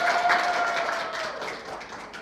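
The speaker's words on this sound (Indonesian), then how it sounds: "Tepuk tangan yang ketiga," A group of students in a classroom teaching session gives a short burst of patterned hand clapping that fades out, with a faint tone running briefly beneath it.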